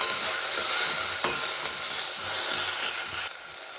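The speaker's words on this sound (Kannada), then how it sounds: "ಟೊಮೆಟೊನ ಸ್ವಲ್ಪ ಹುರಿಬೇಕು" Tomatoes frying in a pan for cabbage kutu, a steady close sizzle throughout with a faint scrape near the middle, no voices.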